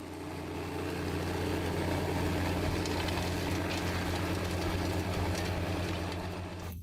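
A 602-horsepower Quadtrac tractor engine drones steadily in a field, a low continuous rumble holding at even loudness throughout, no voices over it.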